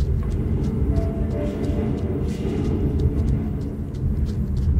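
A train in the After Us video game pulls away, a steady low rumbling drone with rolling mechanical noise that holds even and continuous from start to finish, with no voices.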